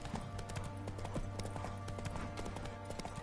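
Roach the horse in The Witcher 3 gallops with steady, quick hoofbeats over a dense, continuous background of game ambience and music.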